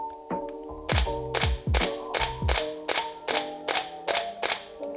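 A Canon 5D Mark III in normal shutter mode fires about ten sharp, loud mechanical clacks in a quick, fairly even burst, close up and with no talking.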